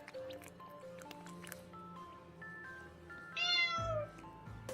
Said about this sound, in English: A little cat.